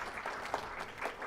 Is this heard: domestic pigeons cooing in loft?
no